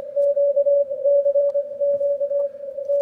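Steady CW Morse signal on a Yaesu FTdx5000MP with the APF audio peak filter engaged, heard as a clean single-pitch sidetone keyed on and off in rhythmic dots and dashes over a quiet background.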